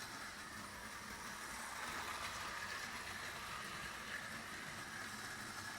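A vintage reconditioned Marx starter-set toy train runs steadily on an oval track, giving a continuous even whirring rumble from the small motor and wheels, close and moderately loud, with no voices.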